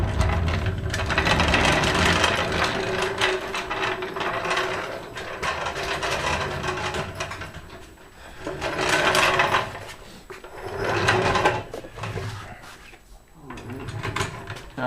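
Floor jack lifting a car by the chassis, a series of ratcheting clicks and mechanical pumping strokes in uneven bursts, with some quieter pauses between them.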